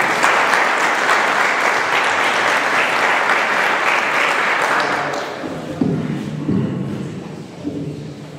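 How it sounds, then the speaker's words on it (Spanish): Applause from a crowd at a political rally, sustained dense clapping that fades after several seconds into scattered claps and murmur. "Un fuerte aplauso para él."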